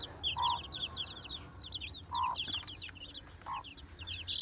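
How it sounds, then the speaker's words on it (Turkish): Chicks peeping rapidly on a farm with hens clucking in short bursts at intervals, close and clear over a low steady background hum. "11 tane civcivimiz var burada arkadaşlar"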